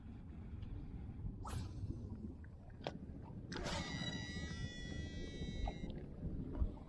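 Fishing boat motor running on Laguna Lake, a low, quiet and steady rumble, with a few sharp clicks and a brief whining sweep laid over it.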